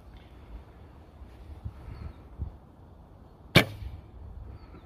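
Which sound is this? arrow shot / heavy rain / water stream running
arrow shot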